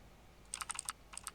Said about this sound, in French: Mais si, appuie sur le clavier.